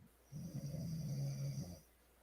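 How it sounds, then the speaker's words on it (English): Someone snoring nearby during a podcast recording session, a single long rasping inhaled snore lasting over a second, fairly loud against a quiet room with no talking. "is somebody snoring?"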